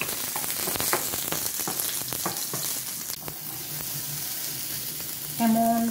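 Food frying on a home stove sizzles steadily and close, with sharp crackles and spatters early on and a brief tonal beep near the end.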